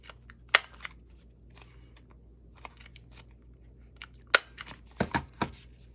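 A few crisp snips of scissors cutting a clothing tag, scattered across a quiet room, with one early snip, one in the middle and a quick cluster of cuts near the end, close up and without speech.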